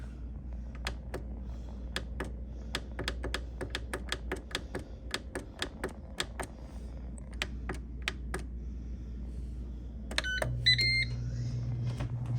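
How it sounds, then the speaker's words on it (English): An air fryer cooking chicken and dressing is switched on with a run of sharp button clicks, then a couple of electronic beeps and a steady low fan hum that starts and keeps going, close by and with no talking. "Okay, we'll turn on our air fryer."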